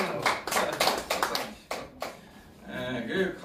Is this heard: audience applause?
yes